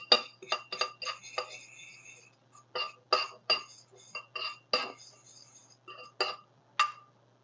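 A fork scraping and clinking against a bowl while mixing a rub of dried herbs including tarragon: a string of close, bright metallic taps and chinks in an irregular rhythm, alone with quiet pauses between.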